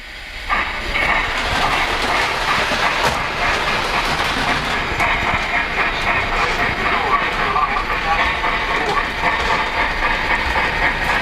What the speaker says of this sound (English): I've got gravity pulling pretty hard on the freight train right now as it goes